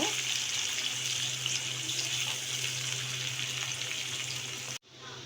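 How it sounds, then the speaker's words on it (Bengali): Half a cup of chopped onion fries in a pan with lightly warmed garam masala, giving a steady, dense sizzle that hisses continuously and then cuts off abruptly near the end. "হাফ কাপ পরিমাণ পেঁয়াজ কুচি পেঁয়াজটা একটু আমি লাল করে ভেজে নেব"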